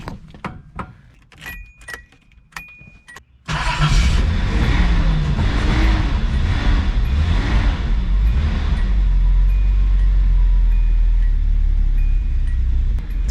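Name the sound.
car engine starting up and idling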